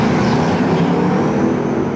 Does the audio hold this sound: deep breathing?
no